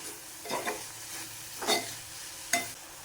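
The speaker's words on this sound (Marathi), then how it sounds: "आता मी ही कांद्याची पात टाकते चिरलेली. हे सगळं मिक्स करून घेते व्यवस्थित" Chopped spring onion greens stirred in a hot pan, giving three soft scraping, sizzling strokes spaced about a second apart over a quiet background sizzle.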